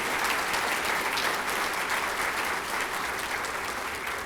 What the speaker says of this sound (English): A round of applause for these schools.